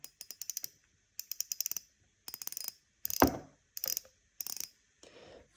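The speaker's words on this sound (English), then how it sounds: "when it comes to the drag clicker, the Stella has more of this tight feel to it," Drag clicker on a Shimano Stella spinning reel, quick bursts of tight, fine ratcheting clicks repeated about six times with short gaps between, close and clear with no talking.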